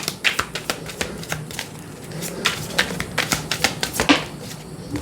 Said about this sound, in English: And I've shuffled this deck.